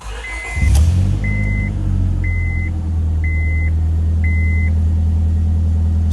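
A car engine, checked for a suspected misfire, cranks and catches with a sharp burst, then settles into a steady, deep idle rumble close by, with no talking.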